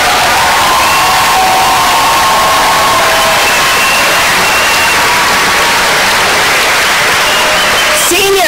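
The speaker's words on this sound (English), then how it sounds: "Let's get one big round of applause again for our seniors." Loud, sustained applause from a large crowd at a 2018 graduation ceremony, dense and continuous, with some cheering mixed in.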